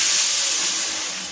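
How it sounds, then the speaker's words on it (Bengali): Water poured into a hot pot of fried rice for pulao, giving a loud steady hissing sizzle with steam that eases slightly toward the end, close up with no talking. "এবার জল দিয়ে দেবো, যতটা পরিমাণ চাল নিয়েছি তার ডবল জল দেব।"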